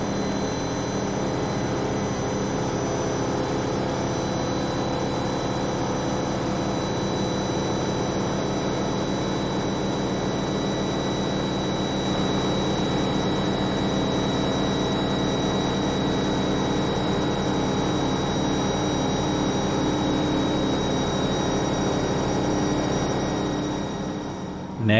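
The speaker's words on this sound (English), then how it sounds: "Next, I'm turning on the large air compressor and turning off the eco on the Honda generator" A large air compressor runs on a Honda EU2200i generator with eco mode off, giving a loud, steady, continuous mechanical drone with a constant whine throughout, no talking.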